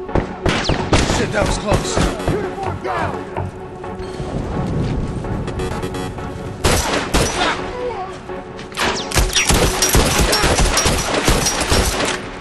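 Gunfire in the video game The Last of Us Remastered: dense, loud volleys of rapid shots and cracking impacts, coming in bursts with short lulls, while a voice exclaims over the chaos.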